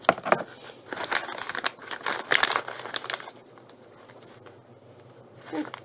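Scissors cutting open a packaged cake culture kit, with several crinkling, snipping bursts of plastic wrapping up close over the first three seconds, then quieter handling.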